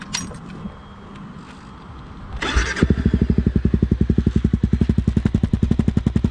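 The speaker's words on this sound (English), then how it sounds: "I'll let y'all hear the exhaust real quick too." A Honda CRF 250 Rally motorcycle fires up and settles into a close, loud idle, its exhaust giving a steady, even rhythm of rapid pulses with no voices.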